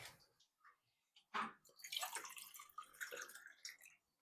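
A little water is poured while idli and chutney are set out in a kitchen, giving a few short splashing trickles that rise and fall over about four seconds, near and moderately loud, with no speech over it.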